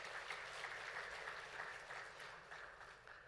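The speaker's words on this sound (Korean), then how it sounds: "카리스 찬양팀과 이마누엘 찬양대를 위해서 함께 박수 올려드리도록 하겠습니다" A church congregation at a Wednesday worship service applauds the praise team and choir, steady clapping spread evenly through the room, fairly faint and distant.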